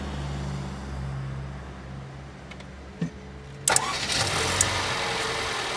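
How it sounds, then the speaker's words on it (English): A car engine cranks briefly and catches, then settles into a steady idle hum nearby, with a quiet background before the start. "start your engine"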